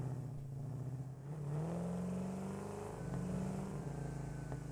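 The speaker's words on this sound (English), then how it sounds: "they have the sound of a V8, like an angry V8 dune buggy" A V8 dune buggy in the video game Satisfactory drives along with a steady growling engine drone whose pitch swells and dips as it speeds up, faint and continuous with no talk.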